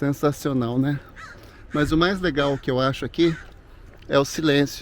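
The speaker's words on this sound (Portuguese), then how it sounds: "Olha, tem os passarinhos cantando." Bird calls, harsh crow-like caws, ring out intermittently beneath someone speaking steadily close to the microphone.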